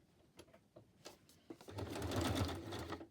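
A sewing machine stitches around paper strips for a scrap project, starting with soft handling clicks and short bursts, then running into a steady, close, continuous whir with a low motor hum.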